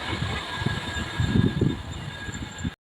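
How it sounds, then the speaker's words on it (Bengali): The Azamgarh weekly express rushes past nearby, a steady rolling rumble of wagons with periodic low thumps from the wheels, and no talk over it. "এখন সামনে দিয়ে ছুটে আসছে তেরো হাজার একশো সাঁত্রিশ আজমগড় সাপ্তাহিক এক্সপ্রেস"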